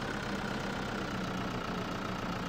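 A tractor engine idles steadily in a farming video game, left hitched to a loader wagon, a continuous low mechanical rumble with a faint steady hum, no talk over it.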